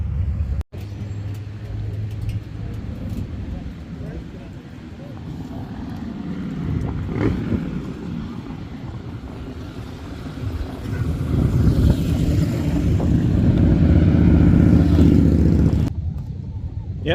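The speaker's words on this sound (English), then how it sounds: "I'm going to hop on the bike and let's go head into Spearfish Canyon." A motorcycle rides into Spearfish Canyon near Sturgis with a steady, loud engine drone and wind rush that builds toward the end and then drops off.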